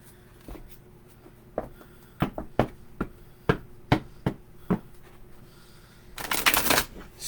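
Oracle cards being shuffled by hand: a series of sharp, close riffling taps at irregular intervals over a quiet room, followed by a longer burst of rapid card riffling at the end, with no talk.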